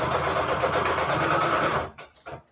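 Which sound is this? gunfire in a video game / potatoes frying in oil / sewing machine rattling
sewing machine rattling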